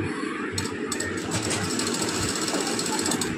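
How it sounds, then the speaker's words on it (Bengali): A sewing machine stitches the open part of a blouse with a continuous, rapid mechanical whirr and clatter that stays close and steady throughout the stretch. "এবারে যে খোলা অংশটা আমি মেশিনের সাহায্যে সেলাই করে নেব"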